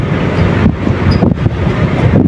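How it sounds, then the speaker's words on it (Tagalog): An air conditioner's cooling fan motor running: a loud, steady whooshing roar that continues without a break for the whole stretch. "Itong kanyang cooling fan motor ay umaandar."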